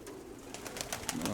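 A female pigeon gives a faint, soft coo at close range, brief and low against a quiet background, with no voices.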